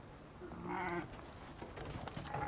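A sheep gives a single faint, wavering bleat in a mountain setting in a war film, against a low background hum.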